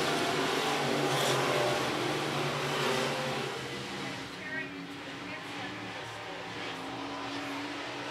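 Stock cars race around the I-76 Speedway track, a continuous engine roar that is loud at first and then fades slightly as the cars move away, under a race announcer's commentary.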